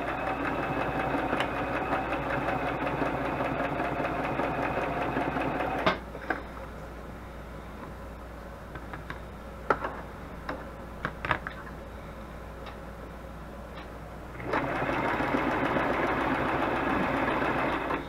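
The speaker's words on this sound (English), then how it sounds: "I'm going to see if I can kind of do a chain stitch" A domestic sewing machine running a chain stitch, steady fast mechanical whirring at moderate level, pausing for several seconds with a few clicks and taps before the motor starts up again.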